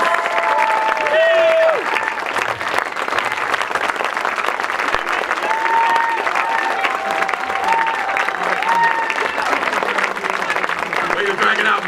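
Applause fills an awards-ceremony audience for presenter Marilyn Chris at the 2015 LIIFE Awards: steady, dense clapping at constant loudness throughout, with a brief spoken word near the start.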